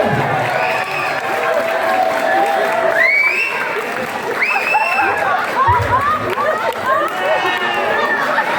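A large crowd at a wrestling event applauds and cheers continuously, with excited shouting and an announcer's voice rising above the noise.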